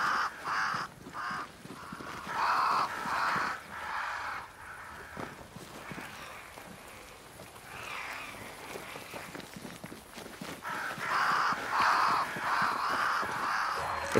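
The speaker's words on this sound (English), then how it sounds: "Crows. They flock to that great tree up there." Crows caw repeatedly in the video game Banishers: Ghosts of New Eden, harsh calls coming in clustered bursts over soft footsteps and ambient game sound, loud and close.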